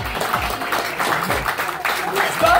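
A small audience at a magic proposal show claps along, a continuous busy patter of hands at fairly loud level with scattered voices underneath.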